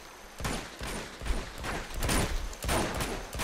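Automatic AK rifle fire in the video game Uncharted 2 comes in several loud, sharp bursts with short gaps between them, booming over a dense action-game backdrop.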